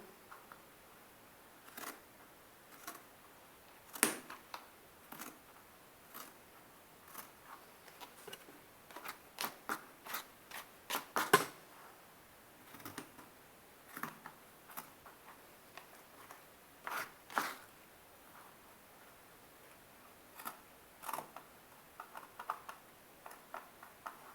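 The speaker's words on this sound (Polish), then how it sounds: "Sukces to ostre nożyczki. One naprawdę tutaj ułatwiają pracę." Sharp scissors snip through macramé cord while trimming a feather, giving a scattered series of crisp, close, quiet clicks and snips at an irregular rhythm, with no talking.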